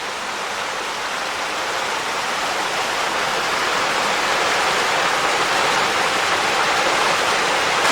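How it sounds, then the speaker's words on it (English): A steady, broadband rushing roar of falling water, continuous and unbroken, with no voices. "up ahead there's quite the cascade of waterfalls up there"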